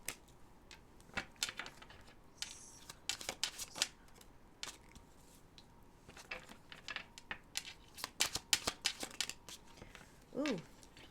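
Tarot cards are riffled and shuffled by hand in close, crisp bursts of irregular flicking and slapping over about eleven seconds, with brief pauses between runs.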